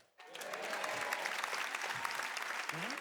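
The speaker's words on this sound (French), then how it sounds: "Par applaudissement, qui a des enfants dans la salle?" Parents in a comedy show audience break into applause, starting suddenly after a brief silence and holding steady and full, with a few faint voices mixed in.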